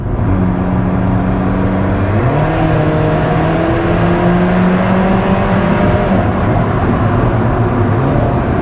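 Alfa Romeo 4C sports car driven on the road, its engine note loud and close, holding steady, then stepping up in pitch as it revs through a gear, with a thin high whine above.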